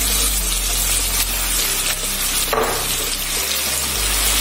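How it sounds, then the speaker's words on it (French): Tomatoes tipped into a hot pan, a loud wet hiss and gushing sizzle that runs continuously throughout, close and dense. "Je vais donc ajouter maintenant les tomates."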